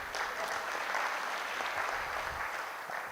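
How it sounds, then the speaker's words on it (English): Audience hand clapping at a talk on transitioning out of employment, a continuous, fairly distant sheet of applause from a crowd, steady and unbroken but somewhat quiet. "A bigger hand clap."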